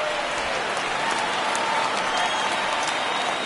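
A crowd of about 23,000 in a PS4 baseball video game rises and cheers for a strikeout, a steady roar of applause and cheering, dense and sustained, with a commentator talking over it.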